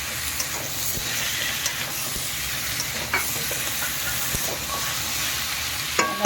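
Potatoes and eggplant fry in a pan with onion and black cumin, giving a steady loud sizzle and hiss with occasional stirring scrapes throughout, no voices.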